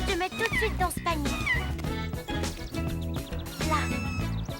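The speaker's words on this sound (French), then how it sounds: "Il y a un chaton dans l'arbre, il est coincé." A kitten stuck up in a tree gives repeated high meows. They rise through a busy, dense mix of music and voices from a children's animal show.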